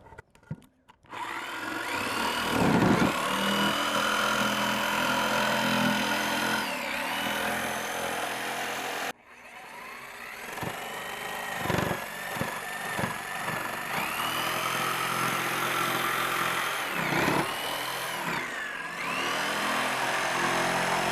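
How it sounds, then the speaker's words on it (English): A handheld jigsaw cuts all the way around a marked circular hole in a board to fit a flower pot, giving a loud, steady buzzing drone with brief pauses and restarts as the blade works around the curve. "I can kind of just take my jigsaw, go all the way around,"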